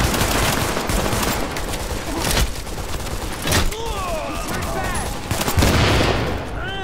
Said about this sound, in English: Shooting weak spots, it appears.